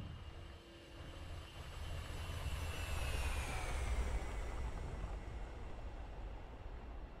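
A-10C Warthog jet landing in the DCS flight simulator game, a steady broad engine roar with a slowly falling whine, moderately loud and unbroken throughout, no voices.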